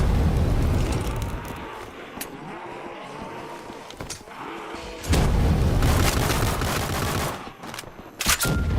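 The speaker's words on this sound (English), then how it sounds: "Thomas, I threw a grenade" Grenade blasts and gunfire in a video game: heavy booming bursts and rattling shots come in loud waves, with a long roaring explosion swell midway and sharp cracks near the end.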